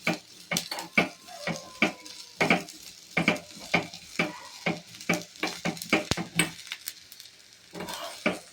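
Onions frying and being stirred in a pan for basale kootu (Malabar spinach sambar), with a soft sizzle under repeated rhythmic scrapes and clinks of the spoon against the pan, close and clear.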